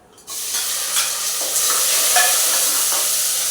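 Onion and green chilli dropped into hot oil with cinnamon and cloves for a mushroom biryani, bursting into a loud, steady hiss and sizzle right after a brief quiet start, close up with no talk.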